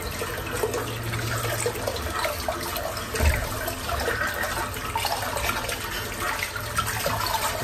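Water runs steadily from a tap during a shaving routine. The flow is continuous and close, with a soft splash or knock partway through and no talking.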